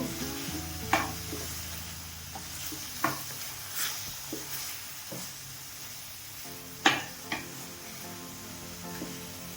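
Masala frying on high flame for a chickpea and brinjal kurma gives a soft, steady sizzle. Now and then a spoon scrapes and taps against the pan, sounding close but fairly quiet.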